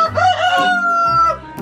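A large, plump rooster crows at a Belgian animal market in freezing weather. The crow is one loud, close call that trails into low clucks, with no speech over it.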